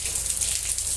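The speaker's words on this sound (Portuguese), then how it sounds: "Então bora lá ver a chuva." Steady rain falls in a thunderstorm, with hail also reported, a constant hiss of drops without a break and no voices.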